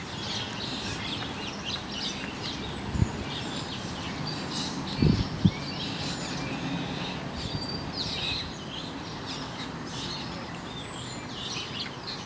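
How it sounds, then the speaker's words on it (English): Birds chirp among palm trees outdoors, a faint scattered twittering spread over a steady ambient hiss, with a few brief louder knocks and no talking. "This area, you can hear the birds chirping,"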